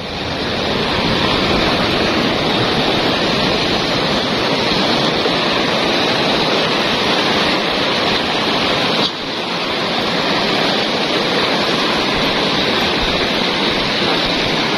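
A river flows close by, a loud, continuous rush of water with a steady hiss and low rumble that does not change, and no voices.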